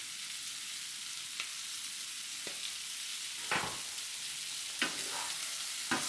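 Salt and pepper shrimp with a little sugar stir-frying in a pan, a soft continuous sizzle broken by several sharp scrapes and clicks of the spatula, no talking.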